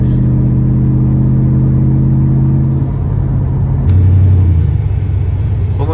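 A 2002 Ford F150 SVT Lightning pickup pulling up at an auto parts store: a loud, deep engine rumble close by, its tone dropping and shifting partway through as it slows.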